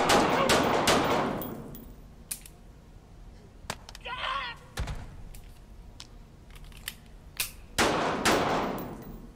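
Gunfire and metallic clangs from the VR shooter game Blood Trail: sharp, loud shots burst at the start and again near the end, with scattered hits and clanks between, no speech over them.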